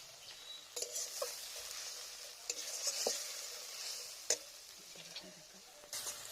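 A spice paste with Kashmiri chili powder and a splash of water is sautéed for a bottle gourd curry, a quiet hiss under scattered spoon scrapes and sharp clinks against the pan, with no speech.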